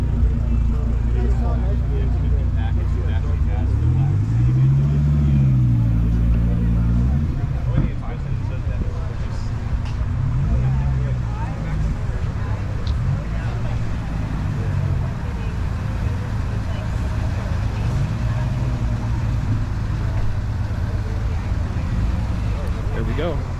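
Engines rumble and rev as cars are driven and parked at a private Porsche event, low throbbing exhaust tones rising and falling close by, with people talking over the vehicles.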